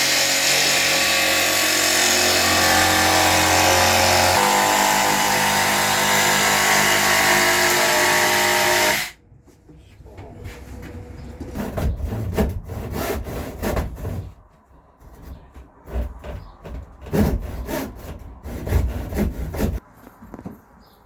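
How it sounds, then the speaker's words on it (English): A jigsaw cuts wood for a custom wardrobe aboard a narrowboat: about nine seconds of loud, continuous buzzing, then quieter, irregular rasping strokes and knocks as the cutting continues in short bursts. "No, I do the jigsaw."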